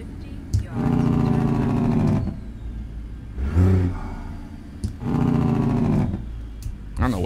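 A heavy truck's engine brake in American Truck Simulator gives long, loud, low rattling bursts of engine roar, three main stretches of a second or more separated by short gaps, with a brief burst in between.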